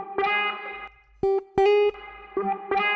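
Electric guitar notes drenched in effects, with reverb and echo smearing several plucked phrases together, separated by a couple of brief clean-sounding stabs.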